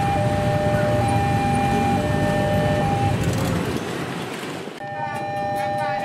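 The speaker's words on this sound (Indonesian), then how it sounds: "Berikutnya akan berjalan langsung kereta api Argo Parahyangan 39" Argo Parahyangan 39 passenger train passing near Bekasi station, a steady loud rumble of wheels and carriages with sustained horn-like tones, the noise dipping briefly near the end before resuming.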